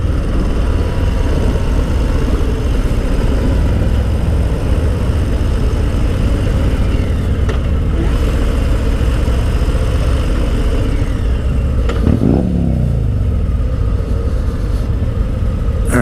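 Harley-Davidson Low Rider S motorcycle cruising in third gear at about 45 mph, its engine a steady, loud low rumble throughout with wind noise, and a brief shift or throttle change near the end.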